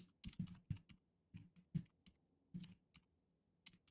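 A pass key being typed on a computer keyboard: quiet, irregular key clicks in short clusters with gaps between, close and alone with no talking.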